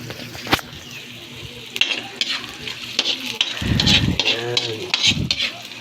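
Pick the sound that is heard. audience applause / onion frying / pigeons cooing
onion frying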